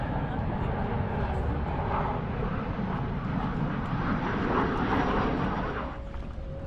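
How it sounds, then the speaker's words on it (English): A Jet2 airliner on landing approach to Leeds Bradford Airport, its engines giving a loud, steady roar that holds throughout and eases slightly near the end. "Now we got a Jet 2 coming into land."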